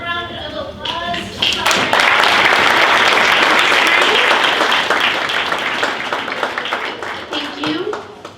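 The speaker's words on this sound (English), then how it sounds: "We can take one round of applause." A reception audience breaks into a full round of applause, dense steady clapping that swells quickly and holds loud before thinning out near the end, with some voices mixed in.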